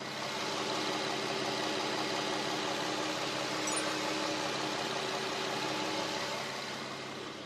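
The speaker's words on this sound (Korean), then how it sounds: "정말 정숙한 엔진 소리 가까이서 들려드리도록 할게요." An Infiniti FX SUV engine idles smoothly and quietly up close, a steady low hum with a faint even rhythm and no other sounds.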